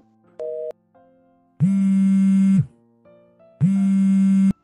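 A short electronic tone gives way to two long, steady busy-signal buzzes on a phone after a call is cut off, separated by a brief gap, loud and close with no voices.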